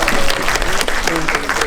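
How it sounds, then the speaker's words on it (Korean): Audience applause at a Korean film special screening event as the director, original author and two lead actors walk out, a dense steady clatter of clapping with a faint voice threaded through it. "큰 박수로 맞아주세요"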